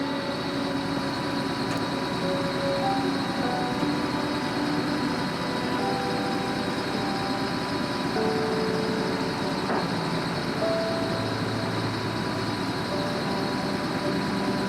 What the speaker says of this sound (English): They got the little tractor and they got a winch attached to that, and that's how they're pulling this up.